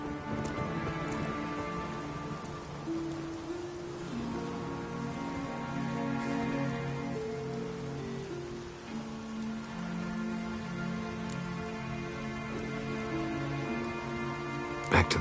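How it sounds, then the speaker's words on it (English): Steady rain falls in The Witcher 3, a continuous hiss of drops on surfaces under a dense layer of music and ambient game sound throughout. "It's raining."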